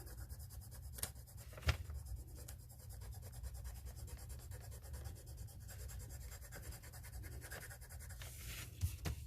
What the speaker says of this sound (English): So we are coloring in this entire paper, so keep that in mind.